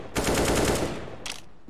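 A rapid burst of automatic gunfire in a video game rattles for about a second, followed by a brief second burst, loud and close.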